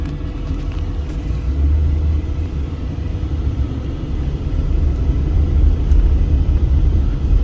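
Cars and trucks roll past on D Street in Las Vegas near an interstate on-ramp, a steady close low rumble of engines and tires that swells toward the end, with no voices.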